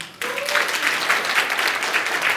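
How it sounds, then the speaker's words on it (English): Applause from a marketing seminar audience breaks out abruptly and holds steady as a dense, even wash of clapping, fairly close and loud, with a brief tonal sound near the start. "Please give her a round of applause"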